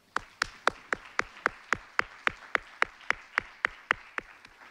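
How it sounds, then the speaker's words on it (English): A small number of people clap at a symposium keynote, about a dozen sharp, evenly spaced hand claps at a steady rhythm, fairly close, with no talking. "So let's give them a big round of applause."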